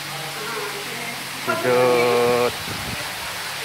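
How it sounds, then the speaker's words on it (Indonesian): A small, calm waterfall at a mosque gives a steady hiss of falling water throughout, with a voice speaking briefly over it. "Air terjun kat sini ada."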